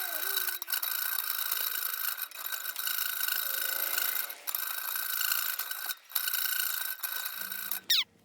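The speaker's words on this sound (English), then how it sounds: "I am currently sitting here with this little file and this bracket" Small hand file rasping a metal bracket for a 1964 Ford Ranchero, continuous close scraping strokes with brief pauses between passes and a faint squeak, no talking.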